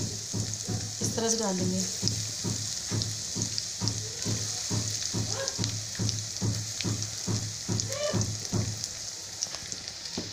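Potato and onion pakoras deep-frying in oil over a high flame: a steady, close, crackling sizzle with regular light scraping taps throughout, and someone talking over it.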